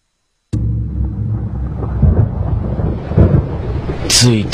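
Night rain with a heavy, close rumble of thunder that bursts in after a brief silence and rolls on for several seconds, gusty and deep, with a short higher sound near the end.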